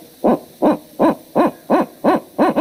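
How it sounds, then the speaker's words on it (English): A barred owl gives a rapid series of seven loud, evenly spaced hooting notes, each with a rising-then-falling wavering pitch, forming its monkey-like call, close and clear with no other sound. "the last one is what I refer to as the monkey call"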